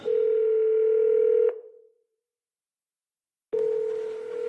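A telephone ringback tone on a call during a French comedy stage show: a steady electronic tone sounds for about a second and a half, gives way to two seconds of silence, then starts again.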